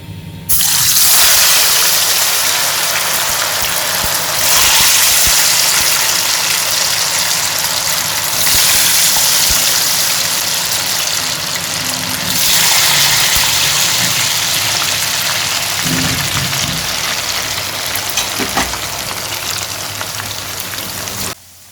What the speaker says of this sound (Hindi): ऑयल हमारा जो है मैंने रख दिया चूल्हे पे और ये गर्म हो गया है, और इसमें फ्राइज डाल देंगे सारी